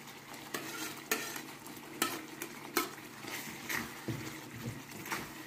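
Fish curry with white mustard and garlic fries quietly in oil while a spoon stirs and knocks against the pan at a steady rhythm, with a soft sizzle running underneath.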